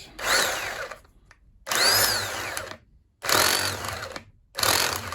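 A hammer drill runs in three loud bursts with short pauses between, a harsh rattling whine that climbs and falls in pitch, close up and with no talking.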